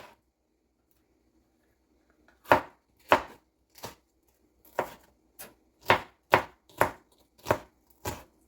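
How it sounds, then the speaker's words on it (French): Colored bell peppers being chopped into small pieces with a knife on a cutting board, about ten crisp separate chops in an uneven rhythm, close and clear in a quiet kitchen. "je vais juste rincer vite fait et découper en petits morceaux"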